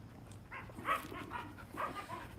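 A dog named Gray whimpers and yips in short bursts, wanting another dog's ball, a few soft whines spaced close together in an outdoor setting without talk.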